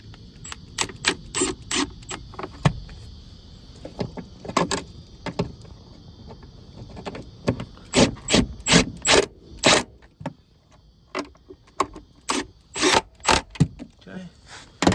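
A ratchet tightens the battery hold-down on a 5th-generation Toyota Hiace. Bursts of sharp, close clicking come in quick runs, broken by pauses and metallic handling noise, with a voice talking now and then.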